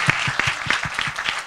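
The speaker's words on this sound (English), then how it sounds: "join me in giving a big applause to them again." An audience at a 2018 conference claps steadily, a brief burst of applause from a seated crowd with distinct individual hand claps, fairly close and without speech over it.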